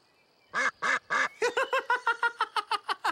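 A cartoon duck quacks in a run of about fourteen quick nasal quacks, the first few spaced apart and the rest faster and evenly paced, close and clear.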